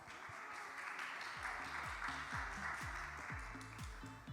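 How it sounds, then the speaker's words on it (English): A conference audience claps for a speaker, with a steady wash of applause throughout and a repeating run of descending electronic chime tones underneath. "Let's give him a round of applause."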